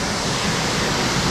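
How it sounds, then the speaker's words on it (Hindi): Harvalam waterfall in Goa pours as a steady, loud broadband roar of falling water that fills the whole stretch without a break. "फाइनली हम पहुंच चुके हैं हार्बेलम वाटरफॉल"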